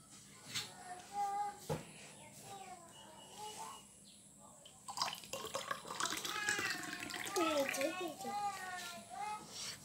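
Water poured for a child runs and trickles through most of the clip, mixed with a child's and an adult's voices talking over it. A few birds chirp in the background.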